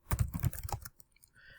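Quick burst of computer keyboard typing, dense clattering keystrokes close up for under a second, then fading to faint scattered taps.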